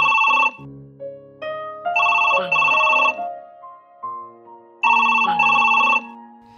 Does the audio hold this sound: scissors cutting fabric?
no